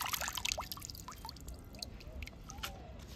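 Running tap water splashes and trickles steadily over fresh leaves being rinsed clean one by one by hand, close up, with small drips and gurgles throughout.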